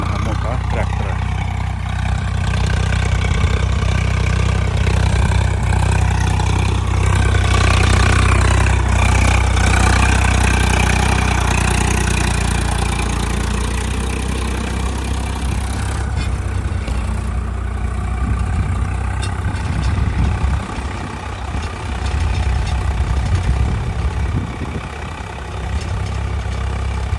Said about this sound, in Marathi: तर आता ट्रॅक्टरच्या सहाय्याने रान नांगरायला सुरू आहे। हा मोठा ट्रॅक्टर आहे।